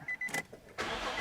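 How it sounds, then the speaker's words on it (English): A Nissan or Infiniti car engine cranks with a few short, uneven churns, then catches and settles into a steady, fairly loud run close by. "we're going to start the engine"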